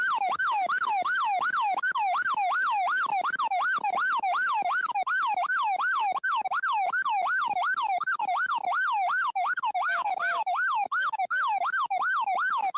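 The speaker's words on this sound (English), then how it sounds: "why you guys always talk over the really good sirens" Police car sirens sound during a chase in Arkansas: a loud, continuous rising-and-falling wail that cycles rapidly and evenly throughout, heard close and alone with no talk over it.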